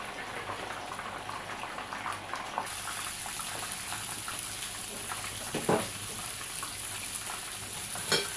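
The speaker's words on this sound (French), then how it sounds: "Voilà, on va frire." Salted dried cod (makayabu) frying in a pan, a steady broadband sizzle that jumps louder partway through, with a couple of sharp spatters or stirring knocks near the end and no talking.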